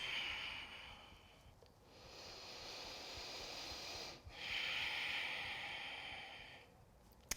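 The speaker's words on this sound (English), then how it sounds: "take 2 more nice full breaths" Slow, full yoga breaths during a hip stretch, with long hissy inhales and exhales close to the microphone, broken by brief pauses, and no talking.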